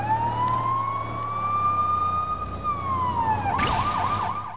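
A police car siren in a Lego City Undercover video game wails in a long, steady rising and falling tone, loud and close, with a brief burst of clatter near the end.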